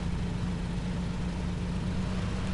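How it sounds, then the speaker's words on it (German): A car engine idles in the Mafia video game with a rough, unhealthy note: a steady low hum and constant broadband noise, moderately loud and unbroken for the whole stretch, with no talking. "das hört sich nicht so gut an mit dem Motor"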